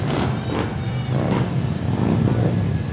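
A motorcycle group in an Independence Day street parade revs their engines in a dense, loud roar, rising and falling in waves of throttle blips over steady crowd and street noise.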